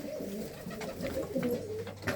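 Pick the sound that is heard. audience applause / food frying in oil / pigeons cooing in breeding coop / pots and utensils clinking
pigeons cooing in breeding coop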